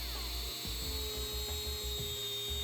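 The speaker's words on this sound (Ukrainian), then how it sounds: "вмикаю болгарку і, використовуючи ніж як резець, просто зрізаю підложку" An angle grinder from a Metabo sander repair spins steadily while a knife held as a cutter shaves backing off, giving a high whining drone with faint scraping, fairly quiet and constant.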